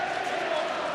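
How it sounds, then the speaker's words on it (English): Dense, steady roar of a large stadium crowd at a Wigan Warriors versus Penrith Panthers rugby league match, a continuous wash of many voices at even loudness throughout. "Big crowd here tonight, not a ticket to be had."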